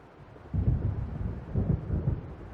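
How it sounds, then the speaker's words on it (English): Low rumbling thunder rolls in from an approaching storm in the Alan Wake video game, with a swelling rumble followed by a second deep roll, moderately loud and without speech. "It seems there's a storm coming."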